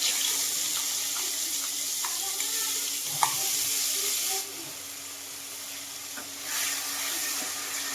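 Panch phoron, ground mustard paste and green chillies sizzle in a pan, a steady bright frying hiss with occasional stirring clicks that eases down partway through.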